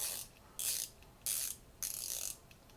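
An Invicta SAN VII Blue Label LE 32907 watch's unidirectional bezel turns in three short bursts of crisp ratcheting clicks, quiet and close, with silence between each turn.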